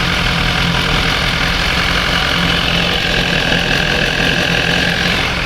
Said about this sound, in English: Let's wait for the motorcycle to be warmed up.